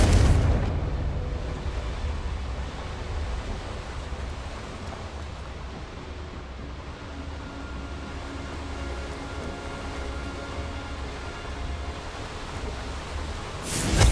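A Confringo fire spell from Hogwarts Legacy bursts with a loud blast at the start, then a long roaring, rumbling wash of fiery noise holds steady and swells again at the end, with no talking.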